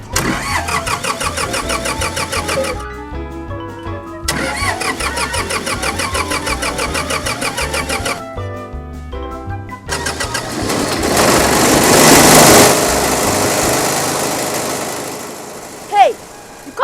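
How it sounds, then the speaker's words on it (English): A new generator set cranks several times in short repeated starter bursts, then catches and settles into a loud, steady running drone close by, with a sharp knock near the end and people talking. "There is this new generator set we would like to introduce to you in this era of power outages"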